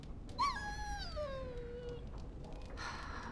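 A dog in Dragon Age: Origins lets out a sharp, rising-then-falling whine that trails off over about a second, followed by a brief second whimper, with faint background noise.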